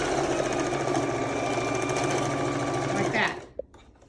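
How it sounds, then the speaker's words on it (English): A sewing machine runs in one steady, loud burst while back stitching the seam of a fabric scrub cap. The motor drones without a break for about three seconds, then stops abruptly, and a single soft click follows. "So when I get up here to the end or the seam, I'm going to back stitch."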